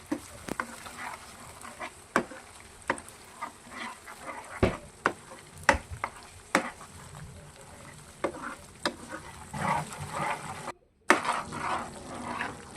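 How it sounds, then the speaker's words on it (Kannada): Masala frying in hot oil for a sprouted-bean paneer masala, a low sizzle under scattered spatula taps and scrapes, with a short silent gap near the end. "ಎಣ್ಣೆ ಬಿಸಿ ಆದಮೇಲೆ ಈಗ ಇದನ್ನು ಚೆನ್ನಾಗಿ ಎಣ್ಣೆಲಿ ಸ್ವಲ್ಪ ಫ್ರೈ ಮಾಡ್ಕೊಳ್ತೀನಿ"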